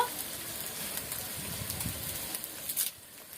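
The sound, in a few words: mutton frying with turmeric and spices in a pan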